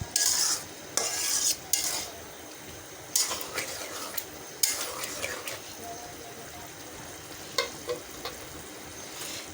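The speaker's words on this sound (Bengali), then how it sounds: "মশলাটা কষে আসছে, দিয়ে দিচ্ছি ভেজে রাখা চাল ডাল" Fried rice and masoor lentils are stirred into cooking masala in a pan. Repeated scraping spoon strokes come in bursts over a soft sizzle.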